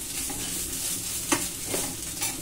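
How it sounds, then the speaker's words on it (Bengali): Sliced banana stem (thor) fries in a pan with a steady, close, continuous sizzle, punctuated by a few brief scrapes of stirring, and no voices. "এখন এখানে হচ্ছে একটু থোর ভাজা"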